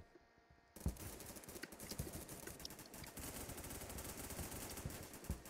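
Rapid automatic gunfire from a multiplayer shooter video game, a near-continuous burst of loud shots beginning after a brief quiet moment and rattling on steadily to the end.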